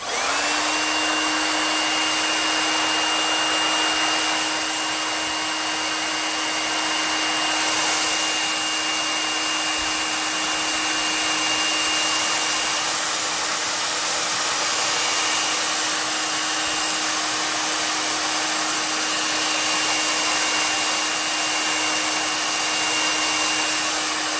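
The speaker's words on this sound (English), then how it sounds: "I'm just going to use a blow dryer to dry it a little" A blow dryer runs steadily throughout, a constant whirring hum with a high whine, loud and close, with no talking.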